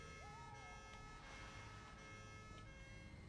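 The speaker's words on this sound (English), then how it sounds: "You just put a little siren thing on top" A small siren fitted on top of a truck in the game Satisfactory wails faintly and briefly near the start, then fades under a steady background hum.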